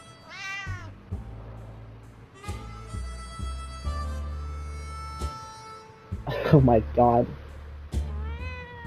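Cats meow repeatedly in 60 Seconds! Reatomized game audio, a cluster of bright meows near the middle and another at the end. Someone talks over much of it, with game music underneath.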